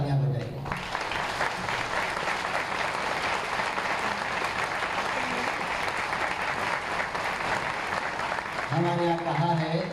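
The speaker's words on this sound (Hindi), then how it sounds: "अब तालियां बजाइए।" An audience at a Madhya Pradesh public address bursts into dense, continuous clapping. The applause is loud and sustained, and a voice speaks briefly at the start and again as it ends.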